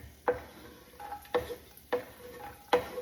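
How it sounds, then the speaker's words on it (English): Vegetables, carrots among them, sautéing in avocado oil in a soup pot, heard as a soft steady sizzle with four clear scraping stir strokes of a utensil against the pot at roughly even intervals, fairly quiet and with no talk. "you are going to saute these until they get a little bit soft"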